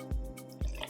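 A cocktail mixture for a Ward 8 poured over ice into a Boston shaker, two short splashing pours close up, each with a low thud followed by trickling liquid.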